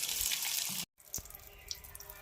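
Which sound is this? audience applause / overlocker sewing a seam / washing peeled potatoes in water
washing peeled potatoes in water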